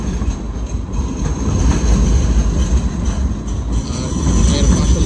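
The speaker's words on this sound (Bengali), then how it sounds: "এই মাত্র আরেকটা লাইট ট্রেন আসলো।" A light rail tram arriving at a stop in Sydney, a loud rumbling wash of wheels and motor noise with faint squeals, steady and close throughout.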